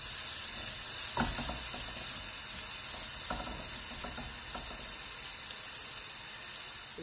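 Onion frying in a pan until soft for a fresh albacore tuna and potato stew gives a steady, close hiss of sizzling with a few soft stirring scrapes and knocks now and then.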